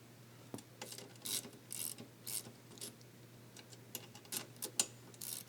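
Ratchet wrench cranking a bolt during an install on a Hellcat Hemi-powered Winnebago RV, giving bursts of quiet, bright clicking strokes in a steady rhythm over a low hum, close by with no talk.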